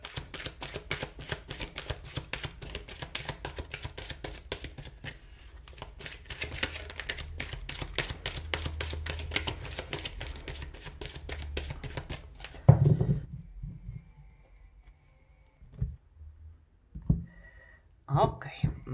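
Tarot cards shuffled by hand, a rapid rustling, riffling patter that runs for several seconds and then stops, followed by a few scattered soft taps and a brief murmur of talk.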